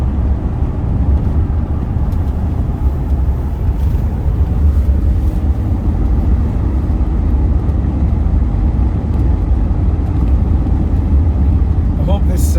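Rolls-Royce car cruising at the national speed limit, a steady loud low rumble of engine and road noise throughout, with faint talk inside the cabin.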